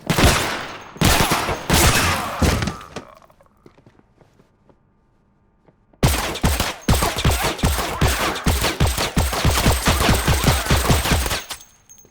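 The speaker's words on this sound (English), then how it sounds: "Your shotgun has an infinite black hole magazine." A shotgun firing over and over in a video game, loud sharp blasts in rapid succession, a short burst, a few seconds of near silence, then a long relentless barrage.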